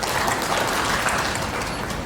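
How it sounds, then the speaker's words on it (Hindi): A conference audience at a stamp duty event applauds the chief guest; a short burst of dense, continuous clapping filling the room. "एक बार उनके लिए जोरदार तालियां बजाएं।"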